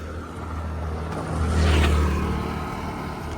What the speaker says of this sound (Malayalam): ബോട്ടും സ്പീഡ് ബോട്ടുകളും വലിയ ബോട്ടുകളും ഒക്കെ ഇതിലെ കൂടെ അങ്ങോട്ടും ഇങ്ങോട്ടും പോകുന്നതാണ്